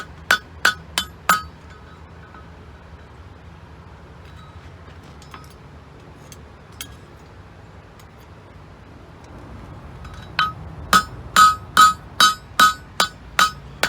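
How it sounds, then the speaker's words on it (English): Sharp metallic hammer blows ring on an anvil while forging an old wrench into a cap lifter, a quick burst of several strikes, then a quiet stretch, then a steady run of loud ringing strikes. "You don't want to hammer on the top too much and get it too thin."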